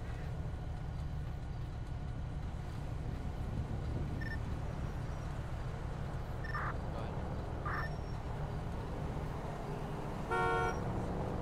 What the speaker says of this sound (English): why is everyone honking?